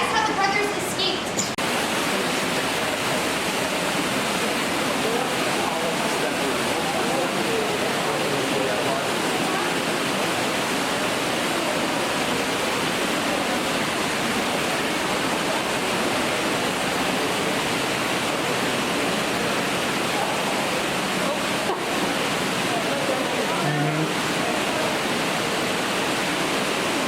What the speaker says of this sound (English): this river actually goes on for about a quarter of a mile more before emptying out into the Meramec